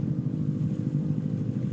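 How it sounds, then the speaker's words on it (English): A scooter exhaust with a bad exhaust gasket drones loudly and steadily, a low, constant rumbling hum heard close by with no talking. "that's a lot of exhaust. That's loud. He's got a bad exhaust gasket."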